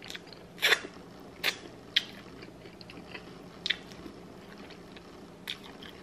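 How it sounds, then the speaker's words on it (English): Close, wet chomping and chewing of food, with several sharp bites and crunches spaced irregularly over a quiet, faintly humming background. "I'm sorry I'm chomping, but they're good"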